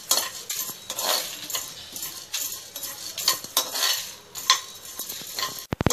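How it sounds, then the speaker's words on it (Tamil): Whole cardamom, cinnamon, coriander and cumin dry-roasting in a pan for Chettinad chicken gravy, with a spatula scraping and stirring close up in repeated irregular strokes and dry rattles, no talking. "பட்டை, மல்லி, சீரகம், எல்லா மசாலா பொருட்களையும் இதில் போட்டணும். லைட்டாக சவக்க வறுக்கணும்"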